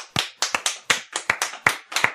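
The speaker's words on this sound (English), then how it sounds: "I'm shilling applause here." A few people clap for a couple of seconds in a podcast studio, sparse, distinct hand claps close to the microphone with no crowd behind them.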